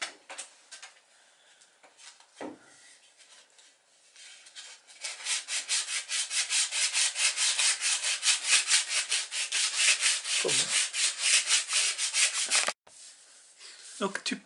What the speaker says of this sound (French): Alors maintenant, tu donnes un petit coup de ponçage